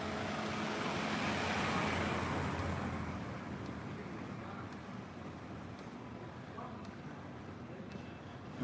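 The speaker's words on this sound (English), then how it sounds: "car creeping through the streets." A car rolls slowly through the night streets of Dongguan, its engine and tyre noise swelling close by, then fading into steady urban hum and distant activity.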